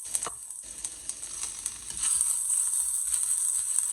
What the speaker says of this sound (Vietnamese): Mình cho một tí xíu dầu ăn vô trong chảo để mình phi hành lên cho thơm.